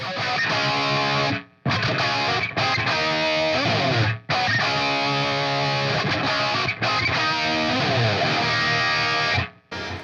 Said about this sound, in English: It's just the sound of the guitar, the pedal, the amp, and that's it.